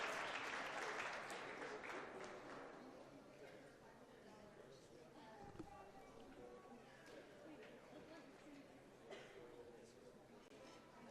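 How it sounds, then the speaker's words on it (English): A crowd applauds a gold medal karate champion in an arena, the clapping loudest at the start and then trailing off under an announcer's amplified voice. "Please give a big round of applause for Claudia"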